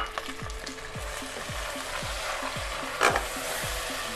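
Mutton goes into browned onions in a pressure cooker, giving a steady loud sizzle with regular scraping stir strokes about twice a second.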